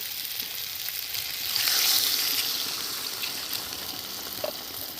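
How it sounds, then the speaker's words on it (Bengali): Water poured into a pan of fried potatoes and kohlrabi sets off a loud hissing sizzle that swells for about a second, then settles into a steady, close simmering fizz. "দেখুন এখন আমি জল ঢেলে দেবো।"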